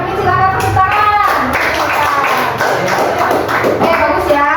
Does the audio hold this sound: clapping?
yes